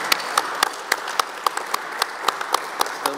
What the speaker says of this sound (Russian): Мы аплодисментами поздравим.